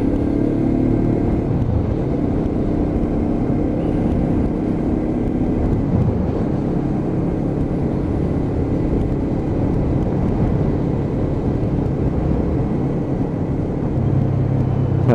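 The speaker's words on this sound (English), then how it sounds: "the growl of that engine" A steady, throaty engine drone from a Lexmoto LXR 380cc motorcycle rumbles continuously throughout, pulling under throttle through corners with slight shifts in pitch, no voices.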